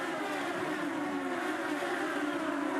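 IndyCar race cars on the 2011 Edmonton City Centre Airport street circuit drone steadily as a tightly bunched field heads into a corner, a continuous loud engine roar with no pauses.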